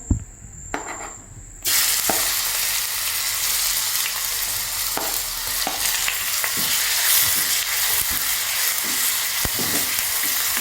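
Ginger garlic paste and curry leaves dropped into hot oil for egg roast burst into a loud, sudden sizzle that continues as a dense steady crackle, with a few faint clicks in the quieter moments before, no speech.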